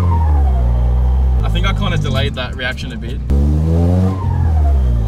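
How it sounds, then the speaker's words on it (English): A car with an exhaust leak accelerates and shifts through gears, its loud, close engine drone dropping and climbing in steps at each change, with a person talking over it. "Because of the exhaust leak, it's making a whole bunch of noises."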